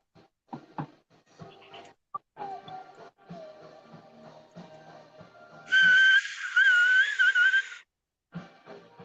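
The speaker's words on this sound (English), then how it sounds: "Little air whistle." A high, clear whistle rises and wavers for about two seconds, loud and close, between stretches of soft background clatter.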